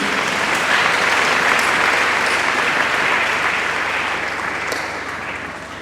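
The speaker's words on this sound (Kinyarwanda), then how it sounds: "Amashyi ku Mana igira neza." A congregation at a gospel church service in Burundi claps in sustained, dense applause, loud and steady throughout before gradually thinning toward the end.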